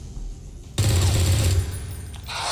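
A burst of rapid gunfire from the video game XCOM 2 rattles for under a second, loud and close, then gives way to a quieter game ambience.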